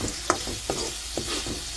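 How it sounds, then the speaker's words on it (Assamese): Tomatoes being stirred into dried fish frying in a pan, with a hissing sizzle throughout and several scraping stirs of the spatula, close and fairly loud. "বিলাহী দি অকণমান লৰাই লওঁ।"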